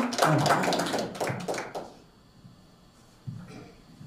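Audience applause at a book launch, a dense burst of clapping that fades within about two seconds, followed by near quiet and a brief soft patter near the end.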